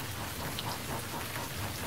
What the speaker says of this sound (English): One day it was raining hard as Thomas hurried along the track with Toby